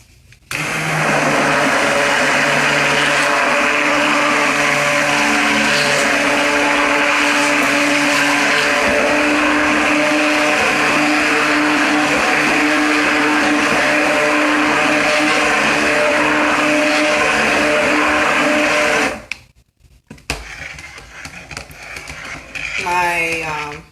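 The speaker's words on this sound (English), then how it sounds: "So now I'm just blending in the herbs, making sure that there are no little lumps of herbs" A blender whirs steadily, loud and close, as it blends herbs into smoothed shea butter for apple cider vinegar shampoo bars, running continuously for about twenty seconds before cutting off into quieter handling noise.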